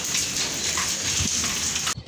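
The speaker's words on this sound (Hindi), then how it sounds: "ये देखिए ज़रा बारिश, बारिश ने तो भाई तबाही मचाई हुई है" Heavy monsoon rain falls in Jhelum as a dense, steady hiss of water close by. It runs without a break for about two seconds and then cuts off abruptly.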